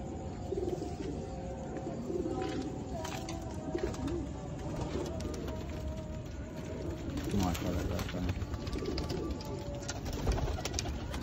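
Pigeons, including short-tailed fancy breeds, coo in low, rolling repeated calls close by, with occasional chirps, while someone talks over them throughout.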